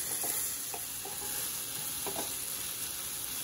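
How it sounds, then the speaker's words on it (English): Chopped tomatoes cook in a pan as a quesadilla filling, giving a soft, steady sizzle nearby. A few light clicks from a stirring utensil sound over it, and nobody speaks. "Now let's add the tomatoes. And cook for another 2 minutes."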